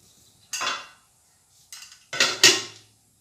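Kitchen clatter while washing vegetables and preparing ingredients: a few separate clinks and scrapes of dishes and utensils being handled, fairly close, with quiet gaps between them.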